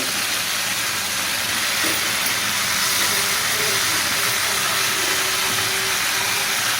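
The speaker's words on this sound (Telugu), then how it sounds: "ఇప్పుడు ఇవన్నీ టమాటా వేస్తున్నాను" Tomatoes tossed into a hot pan of cucumber, potato and onion curry with ginger garlic paste give off a steady, loud hiss of steam and sizzling that holds evenly throughout, with no voices.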